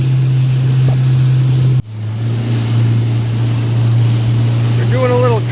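A 1965 17-foot Boston Whaler motorboat drones loud and steady as it runs through waves. A sharp break interrupts the engine hum near the two-second mark, then the roar resumes under constant wind and wash.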